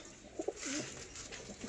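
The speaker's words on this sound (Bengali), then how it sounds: "পায়রা দুটো ছেড়ে দেখাচ্ছি, স্ট্যান্ডিং কোয়ালিটি কীরকম আছে দেখতে থাকো" Malwai pigeons, a breeding pair just released, give a couple of short, soft coos close by over steady background noise, followed by a brief low warbling call.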